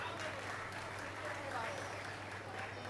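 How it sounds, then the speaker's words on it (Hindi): At an award ceremony an audience gives a short burst of steady, even applause, fairly distant and uniform in texture. "जोरदार तालियों से स्वागत किया जाए कृपया।"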